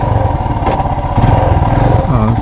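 A motorcycle being ridden, heard from the rider's position with a test helmet on, a loud, steady engine drone with slight throttle changes and wind rush throughout.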